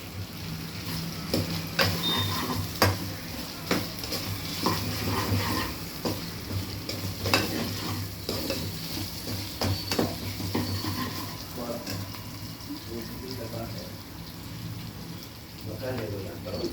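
Green chillies sizzle and crackle as they fry in a pan, a dense, steady hiss with scattered pops and stirring sounds, close and fairly loud, under a faint low kitchen hum.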